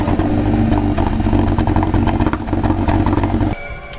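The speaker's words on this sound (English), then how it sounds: "it also has a really bad misfire on cold start that I can't get to the bottom of." A 2013 Kia Ceed GT engine idling roughly on a cold start with a misfire, a loud uneven rumble and clatter that drops off sharply near the end.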